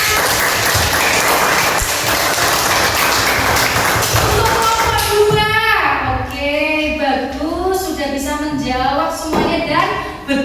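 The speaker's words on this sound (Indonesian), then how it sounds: "Kasih tepuk tangan." Schoolchildren in a classroom lesson on congregational prayer clap together for about five seconds, a loud, dense burst that gives way to children's voices chanting and speaking.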